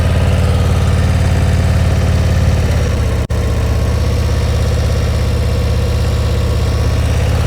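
A motorcycle engine runs at steady throttle during slow-speed riding practice, a loud, constant drone that holds evenly throughout, broken only by one sharp click near the middle.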